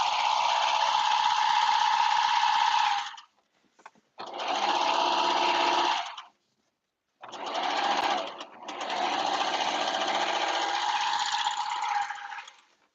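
A serger sewing machine runs loud and close as it stitches through fabric for a caftan, in three steady bursts with short pauses between them.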